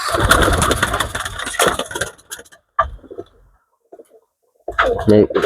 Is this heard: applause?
no